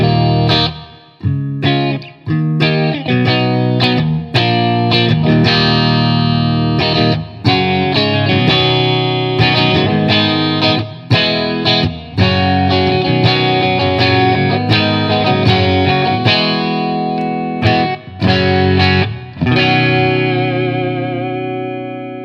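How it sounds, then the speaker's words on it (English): Electric guitar through a Blackstar HT Stage 100 MKIII amp with DelVerb on a big hall reverb setting, loud distorted chords and riffs washed in long reverb trails, played continuously and alone. "now I've got the DelVerb on a big hall setting. Now this is a massive, massive reverb sound"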